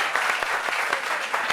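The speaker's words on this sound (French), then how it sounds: "Applaudissements encore." An audience at a meeting on workplace sexual harassment claps, steady brisk applause from a room of people, fairly loud and continuous with no talking over it.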